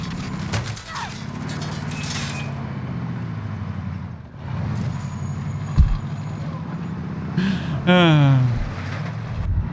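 A truck drives in the video game Warzone, its engine droning steadily for several seconds, broken by sharp clanks and a rising whine near the end, with some voice in the background.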